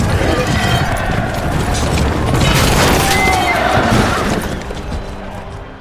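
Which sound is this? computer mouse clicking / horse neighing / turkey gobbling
horse neighing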